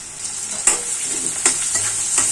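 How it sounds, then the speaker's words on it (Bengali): Onions dropped into hot oil for beef haleem, a continuous hissing sizzle with a few sharp crackles and stirring clacks scattered through it. "তেল গরম হয়ে গেছে এখন আমি পেঁয়াজগুলো দিয়ে নেব"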